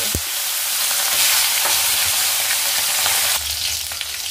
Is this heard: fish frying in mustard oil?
yes